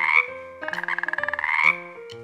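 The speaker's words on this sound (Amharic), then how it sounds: "እንቁራሪት ምን አይነት ድምጽ እንደሚያሰማ ታውቃላችሁ" A frog croaking, a clear nearby call with a rapid pulsing trill in the middle between drawn-out tonal croaks, loud and alone.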